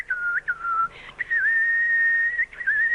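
Shrill whistling imitates a nightingale's song, an anime character's impression, as a loud sustained warble with quick trills and short breaks.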